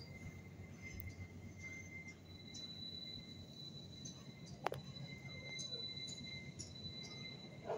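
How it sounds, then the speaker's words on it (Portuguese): A train pulls away from a stop with wheel squeal and rail noise heard from outdoors nearby, a steady rumble with high metallic squealing tones, a sharp clank partway through, and crickets or insects faintly in the background. "o trem tava parado, agora ele tá saindo"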